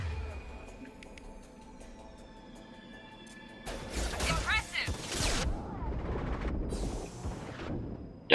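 Bursts of gunfire and crashing impacts in the Mass Effect 2 video game, loud and dense through the second half after a quieter stretch, with a voice speaking over the action.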